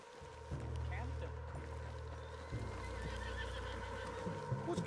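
A horse in the video game Red Dead Redemption 2 whinnies loudly up close, followed by shuffling hoof sounds and a low background rumble.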